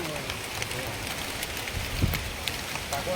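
Rain falls steadily at the Dhareshwar Devalaya temple near Hajo, with a continuous wash of patter and a few sharper drop impacts nearby.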